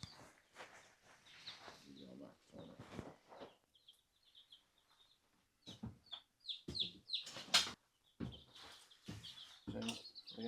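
Chickens clucking on a farm during a rainy morning feeding, several birds giving intermittent clucks and short calls, near and moderately loud, with quieter gaps between bursts.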